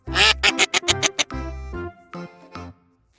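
A duck quacks repeatedly in quick, loud bursts, a rapid string of nasal calls followed by a few slower, softer quacks.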